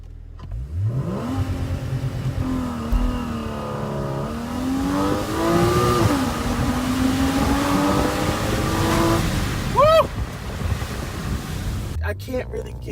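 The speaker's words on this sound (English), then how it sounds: "we're gonna try to figure launch control out right now" A Porsche 981 Boxster engine revs up for launch control and holds a rising, droning pitch for several seconds before cutting off with a quick burble and pops.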